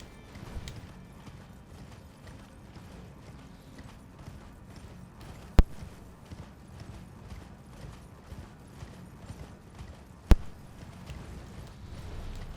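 Video game horse hooves: steady clip-clop at a quick, even gallop, fairly faint, with two sharp clicks standing out along the way.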